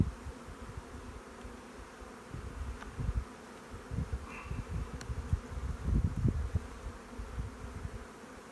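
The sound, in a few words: honeybees buzzing around an open hive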